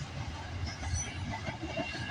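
A Union Pacific freight train rumbles steadily past on Canadian rail lines, a continuous loud roll of wheels and wagons with faint metallic squeal and clatter, no voices.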